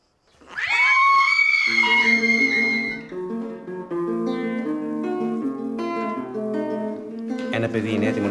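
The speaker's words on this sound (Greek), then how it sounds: "Το ζώο που μας απειλεί λέγεται γάτα." A cat's drawn-out, wailing meow opens loud and rising, then gives way to sustained strained tonal cries like caterwauling that run on for several seconds, close and continuous.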